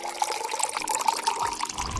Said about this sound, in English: Gently put the egg in the glass and pour the vinegar.